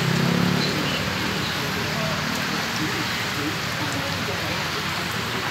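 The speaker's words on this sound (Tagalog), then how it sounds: "Lakas ng hangin tsaka lakas ng ulan." Steady, heavy rain pours down on a street with a constant broadband hiss, strong wind rushing through it, while a voice speaks briefly near the start.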